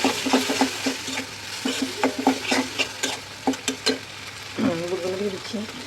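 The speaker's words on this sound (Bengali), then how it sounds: "চনা বুটগুলো ভাজার জন্য এখানে মশলাগুলো দিয়ে দিয়েছি" Spices frying in oil before chickpeas are added, with rhythmic scraping clacks of a utensil stirring the pan over a constant sizzle and a short tonal sound near the end.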